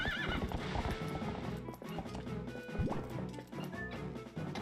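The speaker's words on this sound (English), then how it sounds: "Come on, get on the bloody horse," A horse in Twilight Princess gallops with rapid, close hoofbeats and lets out several loud neighs and whinnies over the game's busy background.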